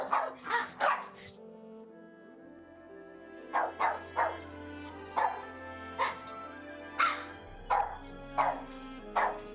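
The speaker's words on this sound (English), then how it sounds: "What are you barking at?" A young dog barks repeatedly in a house, sharp yips and woofs coming in clusters, loud and close, with a low hum underneath.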